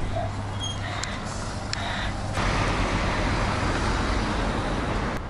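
Street traffic rumbles steadily past a bus stop where buses leave for London, a continuous broadband road roar with low engine hum, growing slightly louder midway, no talking.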